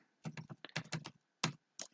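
Computer keyboard keys, the arrow keys, tapped in short irregular bursts of a few keystrokes with brief pauses, close and fairly quiet, no talking.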